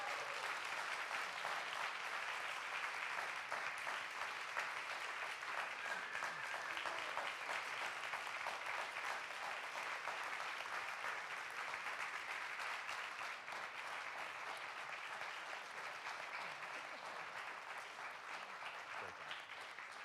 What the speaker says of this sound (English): Please, a round of applause for these 2.